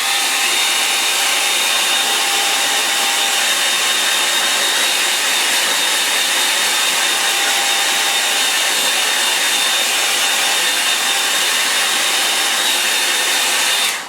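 A hair dryer blowing on a watercolour painting of sand dunes, a loud steady whooshing roar with a faint whine running unbroken and close for the whole stretch.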